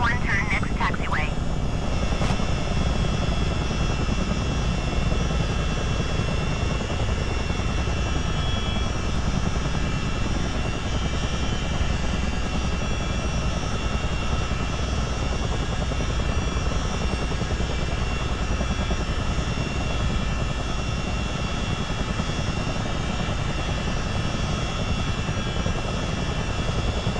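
US Army Chinook tandem-rotor helicopter taxiing in Microsoft Flight Simulator, a loud, steady turbine whine and rotor drone holding unchanged throughout.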